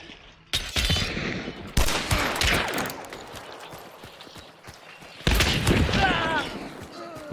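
Sharp gunshots from a Sparks rifle in the shooter game Hunt: Showdown, with loud broadband cracks near 0.5, 1.8 and 5.3 seconds amid ongoing distant gunfire and battle noise.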